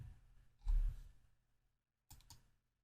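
Two quiet clicks of a computer mouse pressing a Save Changes button, one near the start and a second pair later, separated by near silence in a still room.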